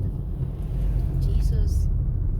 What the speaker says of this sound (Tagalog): Ang laki ng truck.